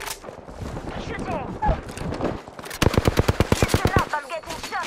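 Automatic gunfire from the video game Apex Legends bursts out in a fast, loud rhythmic stream of shots during the second half, after a stretch of game voice callouts that keep going around it.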